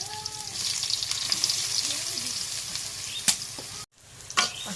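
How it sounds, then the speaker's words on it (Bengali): Onions dropped into hot oil in a wok for a goat tripe stir-fry sizzle steadily and loudly, with a few clatters of the spoon and a brief pause before the frying resumes. "এখন এই যে কড়াইয়ের মধ্যে পেঁয়াজটা দিই,"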